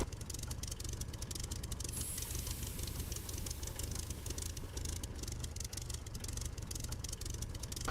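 A warbird aircraft engine runs steadily in the DCS flight simulator game, a loud continuous low rumble with a rough, knocking texture that holds evenly throughout, with no talk over it.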